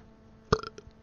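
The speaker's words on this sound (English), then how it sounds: "That's the belch of victory." A short, voiced belch erupts alone, followed by a few quick, fainter gulping tails, fairly close and loud against a quiet background.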